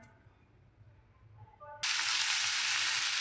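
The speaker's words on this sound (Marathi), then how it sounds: "याच्यामध्ये आता थोडंसं तेल घालून घ्यायचं, जास्त नाही, कारण की फक्त आपल्याला कांदाच परतून घ्यायचा आहे" Near silence with faint tones gives way abruptly to a loud, continuous sizzle as onion drops into a little hot oil in a pan for a spicy eggplant dish. The hiss holds steady to the end.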